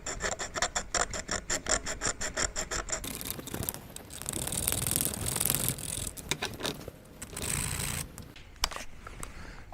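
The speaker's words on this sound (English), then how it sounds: "we're going to stick a file between those and file them." A small file rasps across the ignition points of a 1948 Scott-Atwater 3.6 hp outboard, quick rhythmic strokes close up at first, then slower, scratchier rubbing with short pauses between passes.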